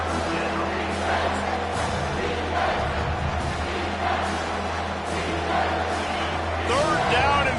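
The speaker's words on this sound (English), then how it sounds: "This crowd will blow out a vocal cord to help this defense." Football stadium crowd roaring and cheering for the defense, a broad constant wash of noise with swells, heard under a commentator talking throughout.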